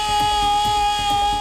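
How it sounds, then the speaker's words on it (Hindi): A civil defense siren sounds at night near an arts college during a drone-attack mock drill, a loud sustained wail with a pulsing low rumble underneath. "रात के वक्त यहाँ आर्ट्स कॉलेज के पास का इलाका सायरन और अनाउंसमेंट से गूंज उठा।"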